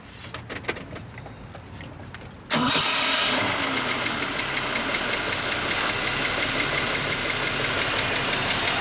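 A 1971 AMC Gremlin's six-cylinder engine cranks briefly, catches and settles into a loud, steady idle close by, with light knocking pulses and no talking over it.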